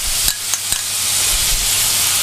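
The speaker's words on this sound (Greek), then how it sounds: "Ρίχνουμε το γιαούρτι." Yogurt poured into a hot pan for a chicken fillet yogurt-sauce dish, giving a steady, close sizzle with a few soft stirring knocks near the start.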